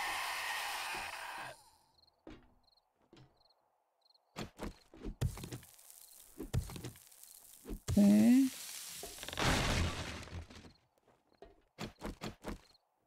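Footsteps crunching over scattered objects in the video game 7 Days to Die: irregular crackly steps and clatters, mostly soft with a few louder bursts, alone with no talking.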